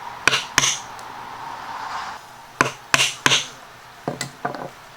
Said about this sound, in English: just hammer it on out